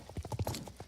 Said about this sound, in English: You can also hear other people's horses, obviously, just like you could before.